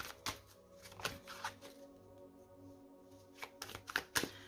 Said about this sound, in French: je vais mélanger un petit peu le tarot.